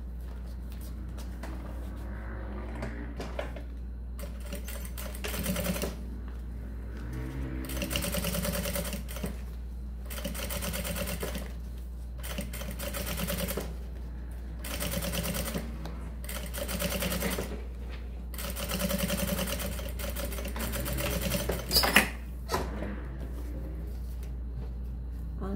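A sewing machine topstitches a zipper onto a synthetic fabric pouch, its motor whirring in repeated bursts of a few seconds each, separated by short quiet pauses while the fabric is repositioned.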